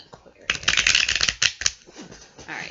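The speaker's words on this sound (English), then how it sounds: "Alright, so I'm going to shuffle a few more times." A tarot deck is shuffled in quick papery riffles lasting about a second, loud and close, with softer handling sounds and faint speech afterward.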